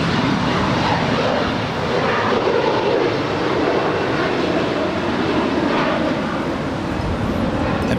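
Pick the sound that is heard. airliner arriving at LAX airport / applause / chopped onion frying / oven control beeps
airliner arriving at LAX airport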